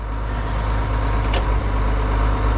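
Turbocharged diesel engine of a Ford TW25 tractor pulling a big Deutz disk, a loud, continuous, low rumbling drone that stays close and steady throughout with no talk.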